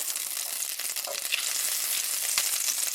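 Butter and oil sizzling in a pan on an electric stove set between 5 and 6, stirred now and then; a steady, close, bright hiss that fills the scene without talk, with a brief scrape of stirring.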